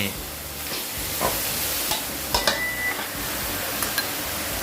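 Food with sugar and pepper sizzles as it is tossed and stirred in a hot pan, the steady frying hiss broken by scattered scraping clicks and taps of the utensil against the pan.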